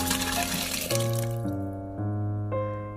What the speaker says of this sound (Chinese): 炒匀之后再加入清水，没过食材，大火烧开